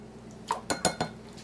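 A teaspoon clinks against a container as vanilla is added to pineapple juice for a pineapple upside-down cake: four quick, light metallic taps, close and fairly quiet, with no talk.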